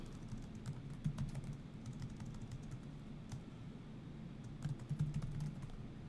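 Keys clatter on a computer keyboard as someone hammers out a run of spaces, quick uneven taps close to the mic over a low steady room hum, with no voice.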